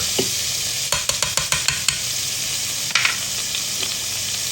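Garlic sizzling in a pan of pepper steak while being stirred, a steady frying hiss under a quick run of sharp utensil scrapes and taps against the pan, then one more scrape later on, close and clear.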